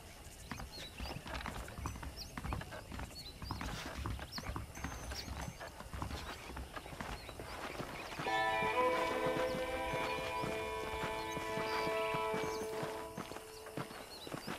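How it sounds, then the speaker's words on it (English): In the video game Red Dead Redemption, rhythmic horse hooves clip-clop steadily throughout, with a horse whinnying and soft mechanical creaks, plus a layer of tonal background music entering partway. "The horses are saddled up over here."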